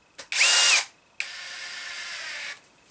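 A power driver runs a screw into thin plastic on an HPI RS4 RC car: a short whirring burst, a brief pause, then a longer steady whine that stops cleanly.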